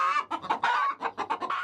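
Chickens cluck in a quick series of short, choppy calls, close and clear, with no talking over them.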